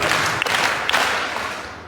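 An audience in a church hall claps in unison for Praveen sir, sharp synchronized claps ringing out over a brief wash of crowd noise.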